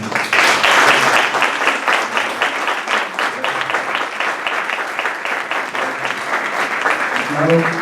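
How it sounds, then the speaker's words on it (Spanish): An audience at a university psychology event applauds, bursting into loud, dense clapping that rises quickly and then carries on evenly for several seconds before easing slightly near the end. "para que pido un fuerte aplauso"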